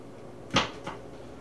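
A knife slices open a smoked bacon-wrapped armadillo egg, giving one short crisp cut followed by a softer second scrape, close and fairly quiet.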